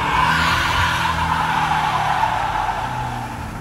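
A truck's tires squeal loudly and continuously during a burnout over a roaring engine, close by and without a break for the whole stretch.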